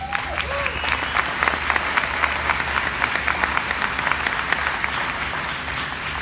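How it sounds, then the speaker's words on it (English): An audience at a doTERRA event applauds for Justin with dense, sustained clapping from a large crowd, steady and fairly loud across the whole stretch, with faint voices mixed in. "So one more round of applause for Justin."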